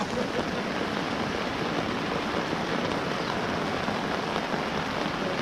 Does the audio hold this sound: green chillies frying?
no